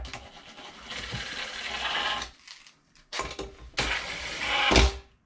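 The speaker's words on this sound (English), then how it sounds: "Now we'll hit them with the impact here a little bit. Just tighten them down." An impact wrench snugs down wheel lug nuts on a Honda Talon 1000R fitted with new rims and beadlock tires, giving two bursts of buzzing rattle separated by a brief pause.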